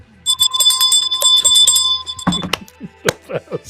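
A bell rings with bright sustained tones through the first two seconds, followed by a few sharp percussive knocks and clattering hits.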